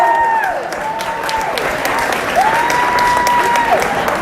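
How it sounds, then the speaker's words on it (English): A crowd at a political rally in a Brooklyn bowling venue applauds loudly and continuously, with cheers and a few sliding whistles cutting through the clapping. "Now give yourselves a round of applause"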